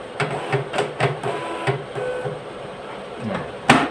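A Gprinter GP-1224T direct thermal label printer runs its automatic calibration, giving a quick series of mechanical ticks and clacks over a low motor whir, ending in one louder snap.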